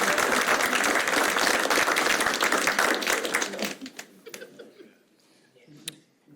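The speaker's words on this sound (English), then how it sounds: "You can applaud if you want." Audience at a fire and rescue paramedic class graduation applauding a graduate's name, dense clapping that holds steady for several seconds, then thins to scattered claps and fades out.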